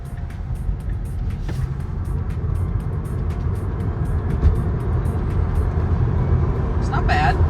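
A Tesla Model 3 RWD, a single-motor electric car, accelerates on the road, with a steady low hum of tyre and road noise rising slightly inside the cabin while someone speaks.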